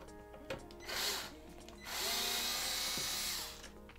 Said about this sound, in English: what we're gonna do is unscrew this screw here.